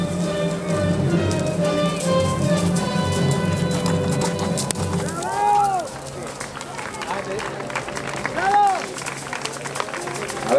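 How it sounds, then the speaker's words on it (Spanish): A horse performs a backwards gallop at a fair show in the moat of a castle, its hoofbeats rhythmic under crowd noise and a commentator's voice. "el galopar al revés ya es la bomba"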